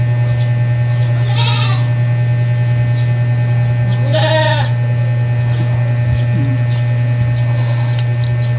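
Goats bleat nearby, two loud calls a few seconds apart and a fainter one later, over a constant low electrical hum.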